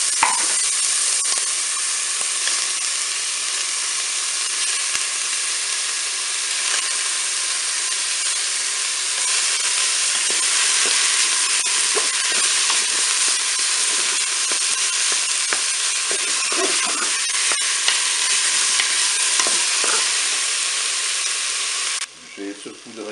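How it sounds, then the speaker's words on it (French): Minced meat and chopped onion fry in a Cookeo multicooker with a constant loud hissing sizzle, faint stirring scrapes within it, ending abruptly near the close. "Je vais également ajouter ma viande hachée."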